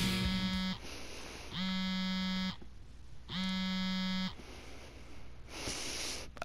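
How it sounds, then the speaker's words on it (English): A mobile phone rings in a video game, its buzzy electronic tone sounding in three long, evenly spaced bursts over a steady background hum, with no speech. "My phone's ringing."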